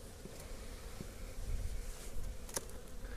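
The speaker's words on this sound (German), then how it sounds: "Also da sitzen ganz schön viele Bienen in dem Topf." Honey bees buzz steadily in the feed pot of a hive, a low, faint, continuous hum with a few short louder passes from single bees nearby.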